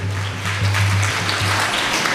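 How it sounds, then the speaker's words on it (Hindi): Applause breaks out at a devotional Bhagavat katha gathering in honour of an honoured guest, a brief, moderately loud spread of clapping with a low steady hum running beneath it. "एक बार जोरदार तालियां दीपक गर्ग जी के लिए।"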